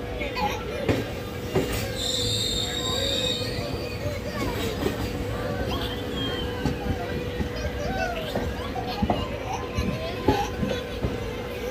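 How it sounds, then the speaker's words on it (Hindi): A passenger train departing Abohar junction on the Shri Ganganagar–Bathinda route, heard from aboard as a steady rumble with repeated wheel clicks on the rails, a brief high squeal, and people talking faintly in the background. "तो दोस्तों 2 नंबर प्लेटफॉर्म से चल चुकी है हमारी ट्रेन"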